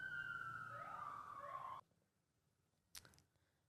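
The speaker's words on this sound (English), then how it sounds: "We'll let this little siren go by." A siren wails and sweeps in pitch for a couple of seconds, then cuts off abruptly, leaving near silence broken by a brief click.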